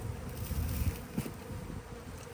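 Honeybees buzz around an open beehive during a hive change, a soft steady drone close by with occasional louder passes of individual bees.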